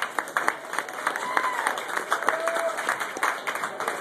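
A crowd at a Gallery 5 music night claps and cheers for the band, with scattered, uneven handclaps, voices and a brief whistle.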